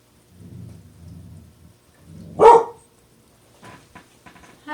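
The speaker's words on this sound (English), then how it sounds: "Sorry, my dog is barking." A dog indoors during a gnome painting session gives one loud, sharp bark about midway, over a low rumbling background with a few faint knocks afterward.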